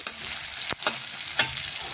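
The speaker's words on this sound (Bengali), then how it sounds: "পেঁয়াজটা এদিকে লাল লাল ভাজা হতে থাকুক একবার আমি নেড়ে দিচ্ছি" A spatula stirs onions frying in a pan, with three distinct scrapes cutting through a constant close sizzle.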